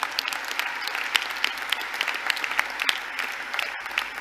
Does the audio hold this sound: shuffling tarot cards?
no